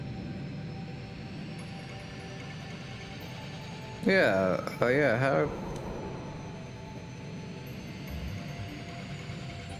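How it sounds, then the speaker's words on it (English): A video game plane's engine drones steadily throughout, a continuous mechanical hum with a voice briefly talking over it midway. "Check out our plane."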